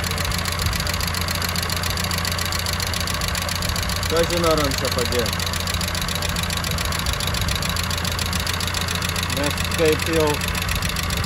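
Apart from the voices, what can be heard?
knocking car engine idling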